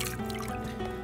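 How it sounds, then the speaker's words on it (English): Water trickling and dribbling in a small mountain stream, a soft, continuous close-up burble with faint low rumble beneath and no talk. "We've gone to the wee mountain stream here."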